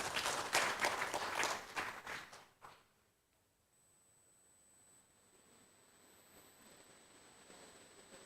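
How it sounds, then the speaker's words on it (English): Audience applause at the International Conference of Creative Design, Business and Society, a burst of clapping that stops abruptly after about three seconds, leaving quiet room tone. "Please give a big round of applause."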